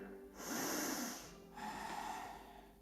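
Two deep breaths during a seated yoga twist, a long airy inhale followed by a softer exhale, close and fairly quiet.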